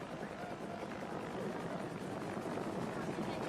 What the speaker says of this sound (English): CIA choppers began picking up evacuees off the roofs of buildings around the city and bringing them to the embassy